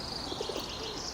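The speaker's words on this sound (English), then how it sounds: "Oh, look at those pigeons over there." Pigeons coo softly outdoors, a few low throaty notes far off and faint beneath a steady wash of ambient background noise.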